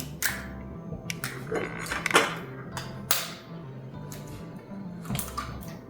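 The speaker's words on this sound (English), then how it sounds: "I'll crack my eggs and just pour them straight into this place" Three eggs are cracked and poured into a bowl of oats: several sharp, quiet cracks and taps spaced across a few seconds, with small wet drips in between.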